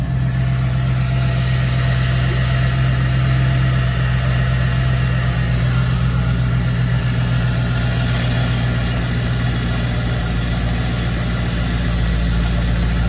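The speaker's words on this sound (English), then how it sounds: "It's idling down right now." A damaged Dodge SRT8 engine idles down steadily nearby with a constant low rumble and slight vibration, no other sounds.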